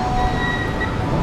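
Bangkok SkyTrain pulling in to a station, a steady loud rumble of the rail cars with faint high tonal whine from the wheels or motors, continuous over the short moment with no talking.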